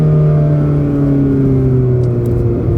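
A 2018 Mazda Miata drives and pulls under acceleration, its engine tone climbing steadily up close and loud with no talk over it.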